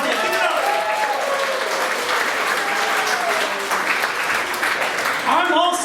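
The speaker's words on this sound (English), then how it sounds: "How about a nice round of applause for all the fathers out there?" Audience at a Boston comedy club applauds for fathers on Father's Day weekend, a steady wash of clapping with a few whoops over it, fairly loud and sustained throughout.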